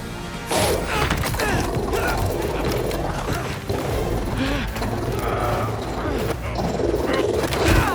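Robot dog from the Spider-Man 2 video game barks, growls and clanks mechanically in a loud, dense fight scene, with crashes and game effects filling the whole stretch.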